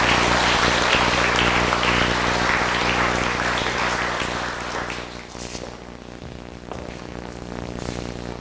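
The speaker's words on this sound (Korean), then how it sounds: "다시 한번 뜨겁게 박수 환영합니다" Sustained applause from a church evangelism rally crowd welcoming speakers, loud and dense at first, then gradually thinning and fading to scattered clapping.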